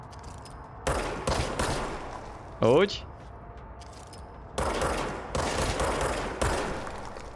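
Gunfire in the video game Control comes in several loud bursts of rapid shots separated by short pauses, with a brief spoken word in between.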